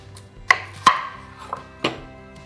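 Knife cutting an onion in two on a cutting board, a few sharp, separate chops against the board, close and distinct, with no talk.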